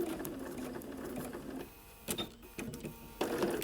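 Sewing machine stitching English paper pieced daisy chain quilt pieces, a close steady mechanical whir with rapid needle pulses, pausing briefly and restarting in short bursts.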